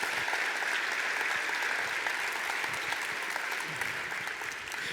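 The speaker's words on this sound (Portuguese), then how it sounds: "Dê um aplauso a Ele." A church congregation applauds together in a steady, dense wash of clapping that holds loud and even from start to finish, with no voices rising above it.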